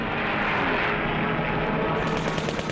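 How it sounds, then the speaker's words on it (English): WWII American dive bombers from the carrier Enterprise diving on Japanese carriers, a loud, sustained roar of aircraft engines with harsh noise throughout and rapid bursts toward the end that resemble machine-gun fire. "Enterprise's dive bombers screamed down to the attack."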